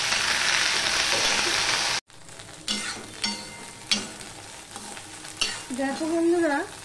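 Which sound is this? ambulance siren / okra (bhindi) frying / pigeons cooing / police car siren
okra (bhindi) frying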